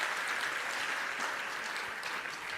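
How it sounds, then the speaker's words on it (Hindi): An audience claps loudly and steadily in honour of Modi, a dense wall of applause that holds for the whole stretch with no voices over it. "एक बार मोदी जी का जोरदार करतल ध्वनि से अभिनंदन करना"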